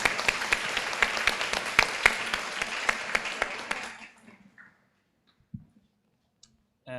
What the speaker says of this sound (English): may I invite all of you to give Dr. Mark Gregory Robson a big round of applause